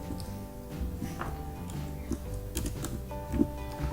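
Keys clacking at a steady pace on a computer keyboard while Python code is typed, close and fairly quiet, with soft background hum and occasional louder keystrokes.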